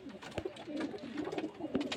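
Two green-tinged pigeons coo in low, throaty rolling phrases, several calls close together and near, with no voices over them.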